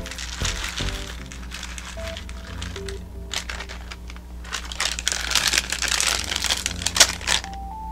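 Plastic packaging crinkles close by, a busy crackling rustle that swells louder toward the end over a steady background of music.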